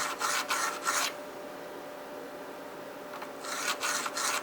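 Close rasping strokes sharpen a Montec broadhead, one quick run of about three strokes, a quiet pause, then another run of three strokes, with no talking.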